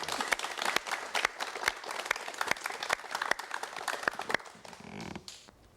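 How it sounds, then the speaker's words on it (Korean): Studio audience in a Korean TV talk show clapping for volunteers about to join a makeup artist's demonstration: a dense patter of many hands with sharp individual claps standing out, fading out near the end. "여러분 우선 박수를 좀 부탁하겠습니다"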